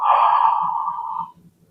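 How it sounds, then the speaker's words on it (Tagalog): A person yawns once, a long breathy drawn-out exhale that trails off into quiet after about a second, close to the microphone with faint low sounds beneath. "Yan ang tamang paghikab, ha."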